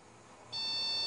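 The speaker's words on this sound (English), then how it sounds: "There's the beep." A FlashForge Finder 3D printer gives a steady high-pitched electronic beep that starts midway and holds continuously over faint mechanical hum, close and clear.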